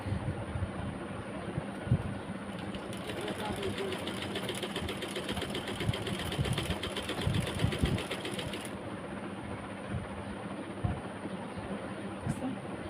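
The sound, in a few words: sewing machine attaching lace to a garment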